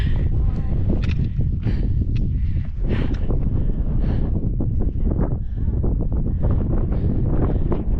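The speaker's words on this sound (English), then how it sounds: "the wind is blowing, it's cold" Strong wind buffets the microphone nonstop on the summit of Mount Langley, a high mountain peak, with a loud, rumbling roar and gusty flutter.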